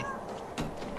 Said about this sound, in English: Oh look, there's a white cat.